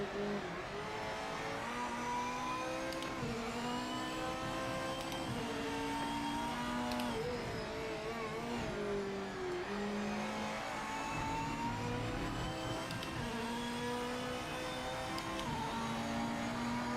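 A race car engine in the sim game Project Motor Racing drives a lap at Kyalami, revving continuously and loud with rising and falling pitch through gear changes, without pause.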